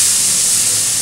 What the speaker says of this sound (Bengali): পেঁয়াজ কুচিটা লাল লাল করে ভেজে নিই।